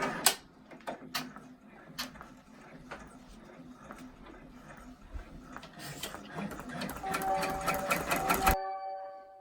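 Embroidery machine stitching a placement run for batting on an in-the-hoop mug rug, a quick steady mechanical clatter of needle strokes with ticking clicks, close and fairly quiet, ending abruptly.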